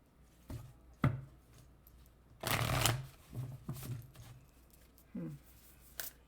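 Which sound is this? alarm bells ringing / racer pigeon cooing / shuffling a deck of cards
shuffling a deck of cards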